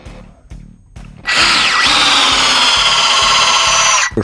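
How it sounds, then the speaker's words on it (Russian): A Metabo cordless drill-driver drives a Torx screw into wood, its motor whining loudly and steadily for about three seconds after a few short trigger pulses, rising in pitch as the screw seats. "Шуруповерт заворачивает это элементарно"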